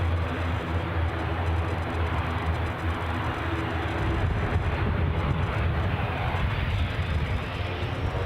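A Loganair aircraft departs at Edinburgh Airport, its engines giving a loud, steady roar that fills the whole stretch with broad, continuous noise and wind buffeting.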